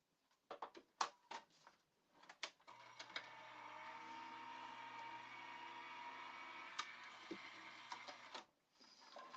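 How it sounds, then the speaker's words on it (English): A die cutting machine presses rub-ons in a standard die-cutting sandwich, giving a faint steady mechanical hum and rolling grind for several seconds, bracketed by light clicks and handling noises. "the pressure of your die cut machine will be enough for the rub-ons to transfer over"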